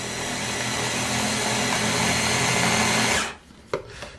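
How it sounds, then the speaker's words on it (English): A blender purees cooked quinoa, roaring loud and steady for about three seconds before it cuts off, followed by a brief clatter. "I took out half of the quinoa, I put in a blender,"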